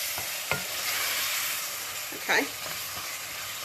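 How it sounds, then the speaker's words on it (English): Curry with red chilli being stirred in a hot pan, a steady sizzle running throughout with a few utensil scrapes and clinks, one louder scrape near the end. A voice speaks briefly. "So I'm just stirring my curry."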